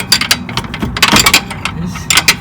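Wrench working a strut bolt loose on a 1993–2002 Toyota Corolla rear suspension: repeated close metallic ratcheting clicks and scrapes in short bursts, fairly loud, with no talk over them.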